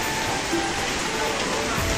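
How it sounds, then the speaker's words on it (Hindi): Heavy rain pours steadily on surfaces at midday, a dense unbroken hiss with no pauses, close and fairly loud throughout. "और इतनी तेज बारिश हो रही है जैसे लग रहा है बारिश का मौसम है।"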